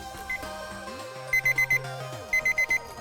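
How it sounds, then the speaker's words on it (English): A kitchen timer alarm sounds as tea finishes steeping, two clear bursts of four rapid beeps each over soft background music. "set a timer for 7 minutes"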